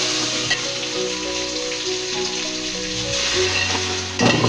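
Onions frying in oil in a pan for white pulao make a steady, close sizzle that crackles continuously, with faint tonal sounds in the background and no talking.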